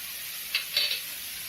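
Green chillies sauté in a pan for vada curry, giving a quiet, brief hiss with a couple of short sizzling flares close by, and nobody speaking.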